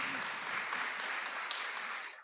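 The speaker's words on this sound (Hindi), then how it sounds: "बजाइए, ताली बजाइए" A church congregation clapping hands together, a steady, dense wash of applause from many people that runs throughout and fades slightly at the end.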